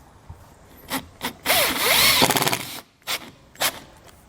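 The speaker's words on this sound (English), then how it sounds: "We're going to use a 1/4 inch socket to run this in." A power drill with a 1/4 inch socket drives a self-tapping screw during trailer wiring installation on a 2018 Hyundai, with a loud rising whir of about a second amid short bursts of handling and tool noise, no voices.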